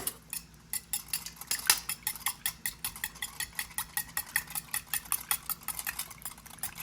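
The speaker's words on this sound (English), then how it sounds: "We are going to crack these 6 eggs and we're going to whisk them together" Six eggs being whisked in a bowl, a quick, regular clatter of the whisk against the bowl's sides continuing evenly throughout, close and fairly light.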